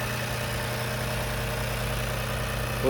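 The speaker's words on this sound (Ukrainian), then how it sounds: "Двигун автомобіля" A Nissan Rogue with a 1.5 turbo engine idles, a steady, even low rumble with a constant hum, close and continuous with no talking.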